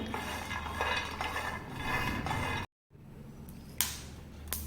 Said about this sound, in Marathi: इथं मी पॅन गरम करायला ठेवलं आहे यामध्ये अगोदर आपण शेंगदाणे भाजून घेऊया